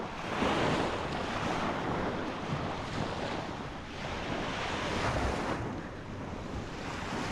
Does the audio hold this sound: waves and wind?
yes